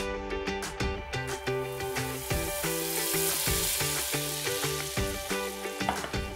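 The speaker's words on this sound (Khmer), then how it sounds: "ឥឡូវយើងចាប់ផ្ដើមចៀន" Oreo crepe batter fries in a pan with a continuous soft sizzle, partly masked by rhythmic background music playing throughout.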